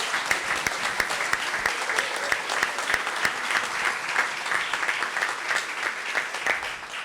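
An audience at a public event honoring the staff of a decentralization and participation secretariat claps loudly and densely for about seven seconds without pause.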